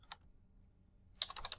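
A quick burst of keyboard typing, a single click, a pause, then a rapid flurry of keystrokes up close in a quiet room.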